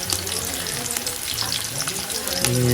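Finely chopped onion and curry leaves sauté in oil in a pot, a bright continuous sizzle with light crackles close by, swelling slightly louder toward the end.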